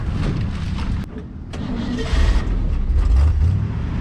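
A 1956 Chevrolet tow truck's engine, left abandoned for years, runs at a steady rumbling idle close by, with a brief dip before settling into a fuller, continuous drone.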